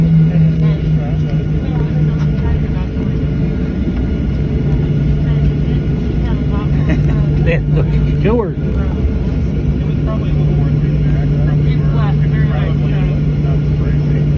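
A Southwest Airlines airliner with CFM engines rolls down the runway at Sarasota-Bradenton for takeoff, its loud steady engine roar and low hum filling the cabin continuously, with some talking underneath.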